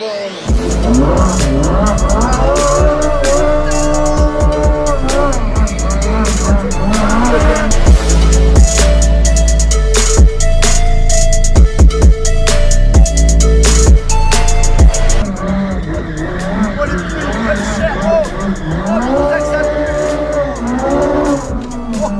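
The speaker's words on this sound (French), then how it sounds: "C'est un rond, un burn, faire un 360." A Lamborghini's loud engine revs hard while tires squeal in long rising and falling sweeps as it spins donuts close by on slightly damp ground, continuous throughout.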